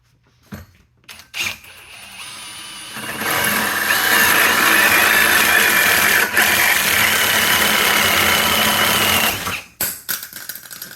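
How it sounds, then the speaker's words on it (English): A power drill fitted with a SPYDER hole saw bores into a block of wood clamped to a plastic table. The motor whirs loud and steady for about six seconds, with a few short bursts before and after. "that drill's so powerful it spun the bit right out"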